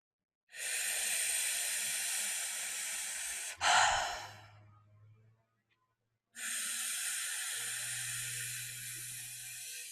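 Slow, deliberate breathing during a paced breathing exercise: a long airy inhale, a short sharp turn into a fading exhale, a silent pause, then another long breath, close and clear with no talking.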